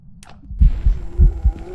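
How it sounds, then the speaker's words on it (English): Heartbeat sound effect from the horror video game Phasmophobia: five or six loud, deep, thudding beats in a steady rhythm, rising in volume after a brief quiet start, with a faint background hum. "Are those heartbeats loud?"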